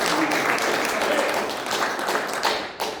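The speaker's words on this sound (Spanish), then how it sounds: "Dan un aplauso fuerte a Cristo." Church congregation clapping during a Spanish-language sermon at Iglesia Cristo Rey, a fairly loud, continuous wash of applause that fades slightly toward the end.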